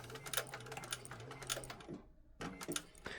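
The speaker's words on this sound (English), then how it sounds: "When you get down here, backstitch well." A sewing machine backstitching a fabric bag, fast close mechanical needle clatter in bursts, stopping briefly for a moment of near silence before resuming.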